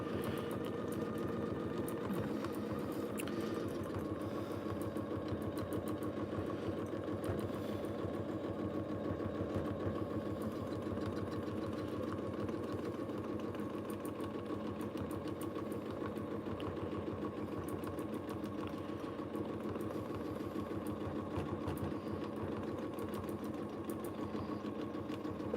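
A Janome sewing machine stitches continuously while quilting, its fast mechanical whir and rapid needle ticking running close and steady without pause, alone with no voices.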